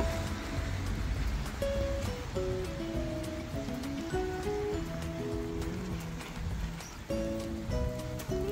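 Rain falls during a walk through Salisbury town, a soft patter and hiss running throughout, partly covered by a melodic music track with distinct notes played over it.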